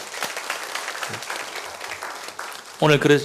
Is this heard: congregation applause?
yes